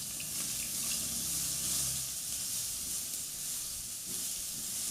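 Steady hissing sizzle of a ground shallot and garlic paste frying in a hot pan, fairly loud and continuous with a faint low rumble underneath.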